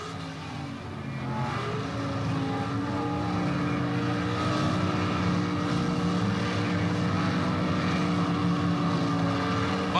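Pro stock drag cars, a 1977 Chevy Monza and a 1977 Mustang, leave the line together as front wheels lift; a loud, sustained engine roar builds over the first second and holds steady throughout with no talk.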